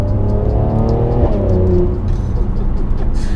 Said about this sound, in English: That exhaust makes a big difference to this car.